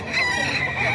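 A banded gamefowl rooster crows at a chicken farm in Bocaue, one loud, near call stretched across the full second, with faint voices in the background.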